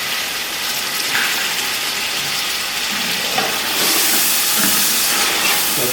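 Ginger garlic paste frying in hot oil for Sindhi biryani makes a loud, steady sizzling hiss up close, growing stronger and brighter partway through, with no voices.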